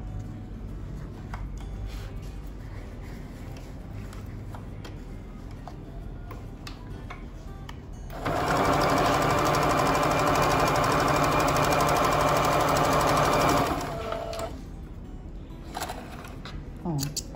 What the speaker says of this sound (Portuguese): coloca ele aqui, costura.